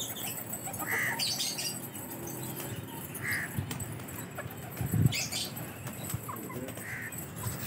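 Bursts of wing flapping from pigeons taking off, several flurries over a quiet outdoor background, with a few distant caws.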